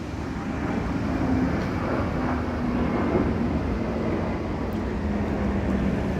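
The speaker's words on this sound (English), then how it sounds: "I love the sound of airplanes." An airplane flying overhead gives a steady, continuous broadband roar that holds at an even level throughout, with no voices.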